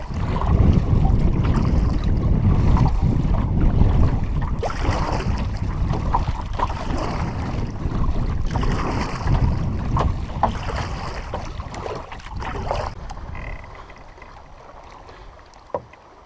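Strong wind buffets a solo canoe on Onaping Lake in October, a steady roar of gusts and microphone rumble with water sloshing against the hull, easing slightly toward the end with one sharp knock.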